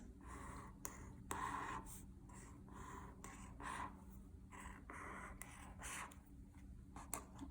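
Faint scratchy strokes of a pen or marker drawing four circles on paper, soft repeated swishes close by in a quiet room.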